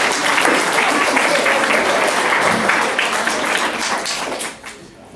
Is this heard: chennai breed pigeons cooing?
no